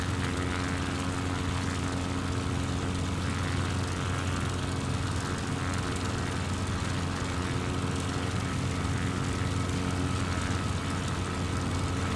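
Airplane engines drone from a propeller plane flying slowly near stall speed in Microsoft Flight Simulator 2020. The hum is steady, loud and tonal throughout, with no talking.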